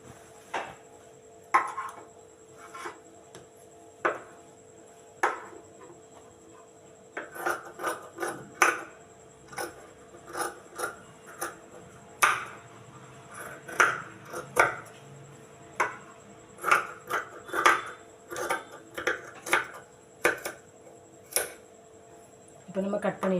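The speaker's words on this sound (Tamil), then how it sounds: "கட் பண்ணி எடுத்துக்கிடலாம்." Scissors cut cloth for a nighty neckline, giving a long series of sharp, close snips in an uneven rhythm while someone talks throughout.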